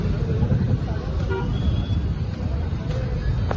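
Busy road near a crowded temple during a Navratri festival at Karla, with continuous dense traffic rumble, car horns tooting, and people talking over the din.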